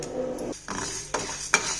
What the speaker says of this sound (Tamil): அடுத்து ஜவ்வரிசியை ட்ரையாக வறுத்துக்கலாம்.